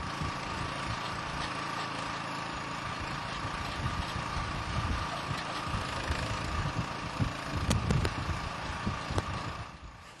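A towable hole digger with its engine running turns its auger into the ground, producing a steady low engine drone with rumbling and scraping that swells slightly near the end.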